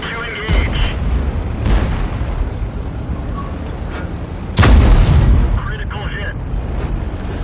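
A KV-5 tank shell hit in the World of Tanks video game lands as two heavy booms, one early and a louder one later, over constant rumbling battle noise.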